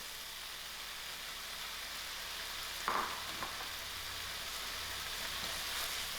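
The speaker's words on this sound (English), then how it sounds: "Now that this is fried, I'm going to quickly add in my bread so it can soak up most of" Bread soaks up hot oil in a frying pan with a continuous soft sizzle, broken near the middle by a brief sharper crackle and clatter as it is added and moved.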